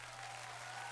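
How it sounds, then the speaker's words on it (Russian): Steady applause from an audience at a prize-giving event, a dense, even wash of clapping heard close throughout with no pauses. "Аплодисменты."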